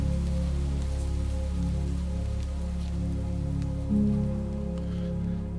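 Rain falls steadily in the Minecraft video game, a continuous hiss of drops over a low, steady hum of game music with no voices.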